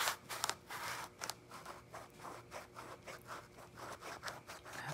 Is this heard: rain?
no